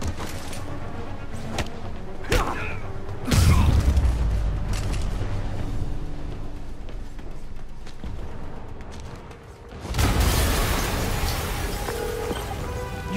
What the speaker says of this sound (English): an explosion just...